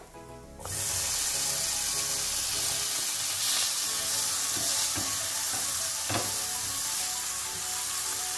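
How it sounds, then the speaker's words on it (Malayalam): Chopped tomatoes tipped into a hot pan and sautéed for paneer bhurji, a loud steady sizzle filling the whole stretch after a brief quieter start, with occasional soft stirring scrapes. "നമുക്കിനി ഇതിലേക്ക് കട്ട് ചെയ്ത് വെച്ചേക്കുന്ന ടൊമാറ്റോ ഇട്ട് കൊടുക്കാം"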